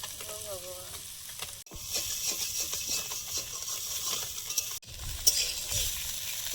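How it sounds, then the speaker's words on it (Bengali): Fish frying in oil in a new wok in a Bengali home kitchen, a loud, steady sizzle heard alone, broken twice by brief scraping stirs. "মাছগুলো ভাজা হয়েছে, পাত্রে ঢেলে নেব।"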